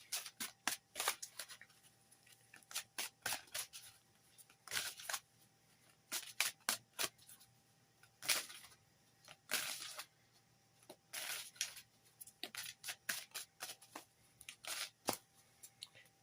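Oracle cards shuffled by hand in a long run of crisp riffling bursts and soft slaps, steady and close, with short pauses between passes and no talk.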